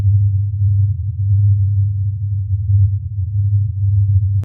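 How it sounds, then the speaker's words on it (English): A low, steady mysterious hum of the Taos kind, like a distant jet engine or a large transformer, drones continuously and loudly on its own for several seconds. "The low humming sound resembles the distant hum of a jet engine or the operation of a massive transformer."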